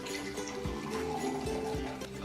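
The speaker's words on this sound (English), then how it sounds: "We're gonna pour in the glass right here." Proper 12 whiskey is poured from the bottle into a glass, a steady gurgling liquid flow with a few glugging pulses, close and continuous over faint background noise.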